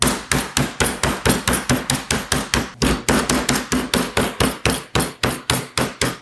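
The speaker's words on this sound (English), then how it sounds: "pound it with a piece of plastic, and we're going to pound it flat to about not too thin, but about a 1/2 inch thick." A chicken breast is pounded flat through plastic, with about thirty rapid, loud, evenly spaced thuds and no talking.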